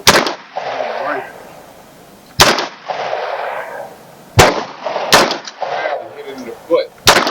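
Several loud, sharp gunshots ring out at an outdoor shooting range, five or six separate cracks at uneven intervals, each with a short ringing echo fading away, close to the listener and without talk.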